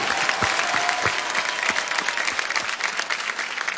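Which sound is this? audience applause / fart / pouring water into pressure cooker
audience applause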